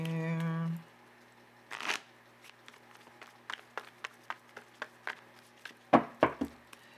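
Tarot cards being shuffled by hand during a reading, heard as a series of soft, separate riffles and taps that follow a short tone and a brief rustle, quiet and close.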